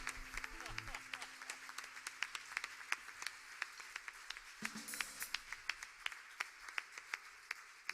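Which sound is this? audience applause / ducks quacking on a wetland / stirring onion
audience applause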